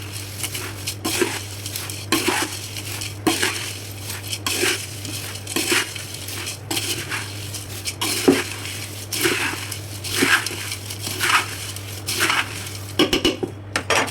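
A fried snack mixture is stirred with curry leaves in a metal pan, making repeated rhythmic scraping and clinking strokes of the utensil against the pan under a steady low hum.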